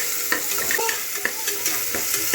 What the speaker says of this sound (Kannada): ಈರುಳ್ಳಿ ಚೆನ್ನಾಗಿ ಫ್ರೈ ಆಗಬೇಕು ಕಲ್ಲರ್ ಚೇಂಜ್ ಆಗೋವರೆಗೂ ಈರುಳ್ಳಿ ಫ್ರೈ ಆಗಬೇಕು